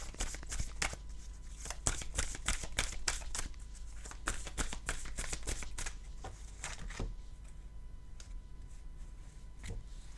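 Tarot cards are shuffled and handled close by, producing a quick series of crisp riffles and slaps that thin out toward the end.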